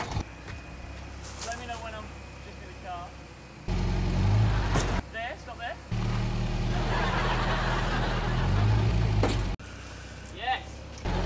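A car carrying passengers rolls along with a low engine and road rumble that cuts in and out in long blocks, while people inside talk and laugh over it.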